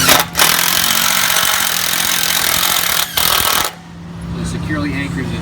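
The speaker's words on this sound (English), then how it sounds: "he's going to attach this to drill straight through to attach the threshold" A power drill bores a 1.5-inch fastener straight through a door threshold to anchor it, a loud continuous whirring grind with two brief pauses before cutting off, leaving quieter workshop background.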